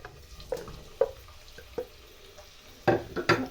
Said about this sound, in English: So I'm just going to fry them without onions until they turn brown or golden brown